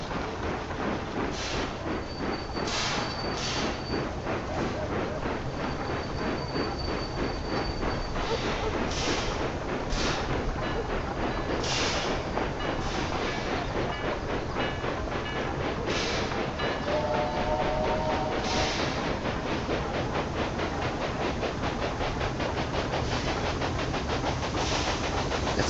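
Trains running on rails in the video game Railway Empire 2, a continuous loud rumbling roll with repeated clacking beats and occasional thin wheel squeals throughout.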